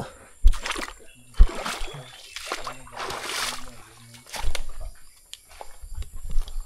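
Water splashes and sloshes as someone wades through a river, with intermittent sharp splashes, some nearby voices, and a steady hiss in the background.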